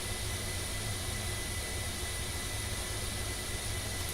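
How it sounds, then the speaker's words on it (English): Steady, dense roar of a jet engine from a craft in Kerbal Space Program, a continuous broadband whoosh with low rumble that holds at an even level throughout, with no talking. "The pressing jet sound again."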